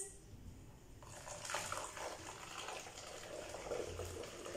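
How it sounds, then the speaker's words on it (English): Water poured from a jug through a funnel into a bottle, a steady close trickling and splashing that starts after about a second and continues to the end. "I'm pouring water into the bottle."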